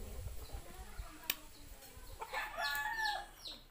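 Chickens on a rural farm in the Bicol province cluck and call near and fairly loud, with a rooster-like crow and several bursts of squawking rising toward the end over a quiet outdoor background.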